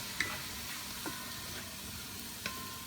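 Tomatoes sizzling in a pan of ginataang shrimp, a quiet steady frying hiss with a few soft clinks of a utensil against the pan, close but faint, no talking.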